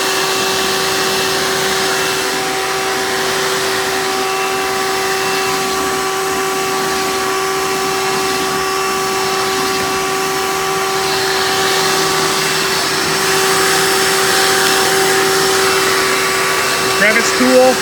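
Hoover Runabout Elite U4253-930 upright vacuum cleaner running with a loud, steady motor whine and airflow hiss that holds throughout.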